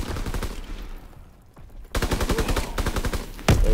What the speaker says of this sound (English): Keep suppressing fire!